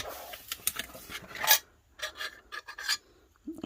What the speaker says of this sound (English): So I'm going to get my trimmer out.